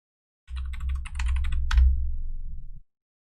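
A password is typed on a computer keyboard in a quick, close run of key clicks lasting about two seconds, set against silence before and after.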